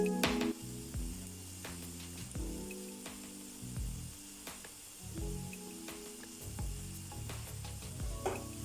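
Banana drop scones frying in hot oil in a pan, a close steady sizzle punctuated by repeated scraping and clinking of a utensil against the pan.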